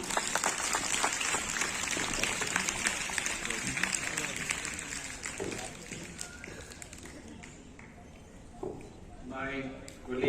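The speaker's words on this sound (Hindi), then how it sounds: "एक बार जोरदार तालियां।" Audience applause at an International Yoga Day event run by the Municipal Corporation of Delhi, a dense, steady crowd clapping that dominates the first half and then thins and fades, with talk over the later part.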